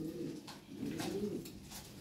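Giant-sized Lahori pigeons coo in low, rolling burbles, two rounds of cooing close by, quiet and alone with faint background hiss.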